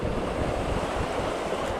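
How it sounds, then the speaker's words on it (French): Strong crosswind roars and buffets the microphone at a fishing spot, a dense continuous rumble with no speech. "il y a un putain de vent, j'arrive pas à pêcher correctement"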